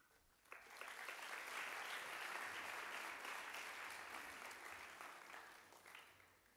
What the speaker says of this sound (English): thank you for that wonderful round of applause